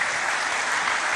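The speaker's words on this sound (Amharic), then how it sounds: "ለኢየሱስ እስቲ ከዚህ በላይ ልልታችሁ ጭብጨባችሁን ይገባዋል" A church congregation applauding, a steady dense burst of clapping from many hands, loud and close, with no speech.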